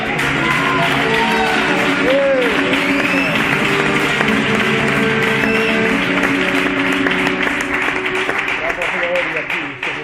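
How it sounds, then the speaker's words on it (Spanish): A church congregation breaks into sustained applause for the Lord, with loud clapping mixed with shouts, whoops and raised voices throughout. "denle un aplauso al Señor"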